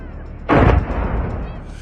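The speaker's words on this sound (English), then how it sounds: "sent him diving for safety as a deafening explosion echoed seconds later" A deafening explosion from a metallic, rocket-like object falling from the sky bursts in abruptly after a quiet rumble, a loud single blast that decays into a sustained low roar.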